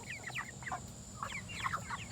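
Several chickens, including domineering roosters, cluck in short, scattered bursts, with a rooster-like call among them, over a steady low rumble of background noise.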